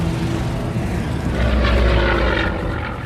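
A propeller fighter plane roars past in a war film, its engine drone loud and steady throughout and swelling slightly in the middle with a dense, throbbing rumble and no speech.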